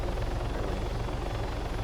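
Helicopter in the Arma 3 video game, flying under the basic flight model, with a steady low rotor thump and engine drone held at an even level throughout, no voices.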